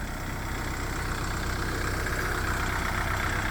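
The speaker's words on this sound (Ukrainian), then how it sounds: "заведений двигун" A Renault Master van's diesel engine idles steadily up close, a continuous low rumbling drone with an even, unchanging tone throughout.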